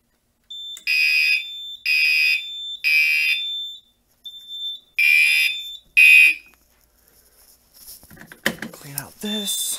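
A Simplex 4010 fire alarm panel blares in repeated loud, evenly spaced beeping bursts, then stops and gives way to clicking and rustling handling noises.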